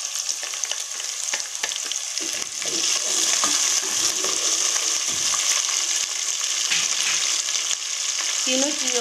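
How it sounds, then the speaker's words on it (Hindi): Onion, cumin and green chillies fry in a pan with a loud, continuous sizzle and crackle, punctuated by scraping stirs, and no one talks over it. "तीनों चीज़ों को अच्छे से फ्राई कर लेंगे, प्याज, ज़ीरा और मिर्चें"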